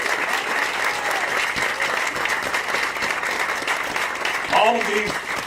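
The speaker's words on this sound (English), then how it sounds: "please give our city staff a big hand. Come on, you can clap louder than that." Outdoor crowd applauding city staff at the Caesars Danville Casino groundbreaking, a broad sustained wash of clapping from many people that holds steady throughout, with a brief voice rising near the end.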